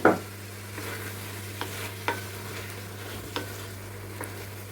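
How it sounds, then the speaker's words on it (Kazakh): Onions and tomatoes fry in a pan with a low, steady sizzle, punctuated by a sharp utensil knock at the start and several lighter stirring scrapes and taps. "Кішкене қуырылып болғаннан кейін помидорымызды салып қуырамыз."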